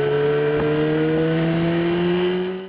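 A motorcycle engine revs in a steady, loud drone with a strong even hum, held for a few seconds before cutting off abruptly.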